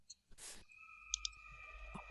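Two quick, sharp computer mouse clicks close together, a right click, preceded by a brief burst of rustling noise and followed by a steady faint electronic hum.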